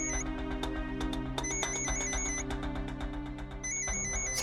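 Phone ringing in a Marathi TV serial scene; an electronic ringtone with repeated bright tonal pulses over a sustained musical background, moderately quiet and steady.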